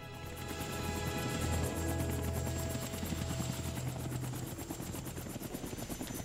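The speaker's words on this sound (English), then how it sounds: "There comes this helicopter." A helicopter approaching with loud, steady rapid rotor chop, heavy engine rumble swelling early then holding through the clip, no voices.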